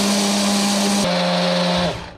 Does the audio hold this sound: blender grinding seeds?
yes